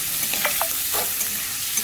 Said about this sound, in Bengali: এটা রান্না হচ্ছে বন্ধুরা চালতা চিংড়ির টক